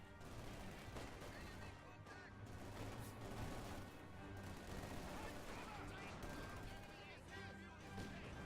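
Pak 40 anti-tank gunfire amid a WWII real-time strategy battle, a steady wash of shots, rumbling explosions and crackling small arms heard under continuous excited commentary.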